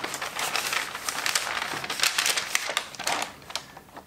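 Paper is folded at a crease with a quick series of crisp crinkles and rustling taps, close and fairly loud, with no voices.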